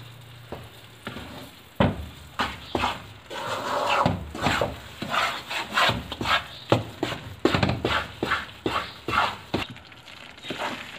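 Gram flour (besan) roasting in ghee in a pan for panjiri, with a soft sizzle and repeated close spoon scrapes and taps in an uneven stirring rhythm. No talking.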